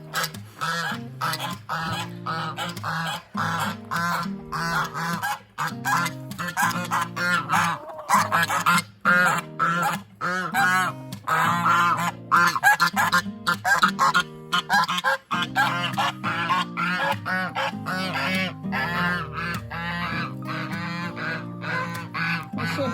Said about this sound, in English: I'm gonna let the chickens and the geese out today.